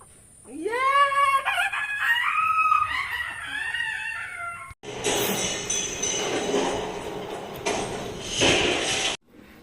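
A chicken cackles and crows loudly up close in a rural village yard, a rising run of calls, then a burst of broad rough noise and clatter takes over for several seconds before stopping abruptly.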